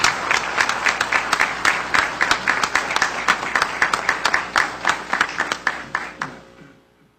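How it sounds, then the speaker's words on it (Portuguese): Audience applause for the president at a public hearing in Jacareí on revising the municipal coat of arms: steady, fairly loud clapping from a crowd across the room, thinning out near the end and stopping abruptly. "E peço uma salva de palmas para esse extraordinário presidente."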